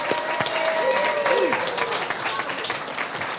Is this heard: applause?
yes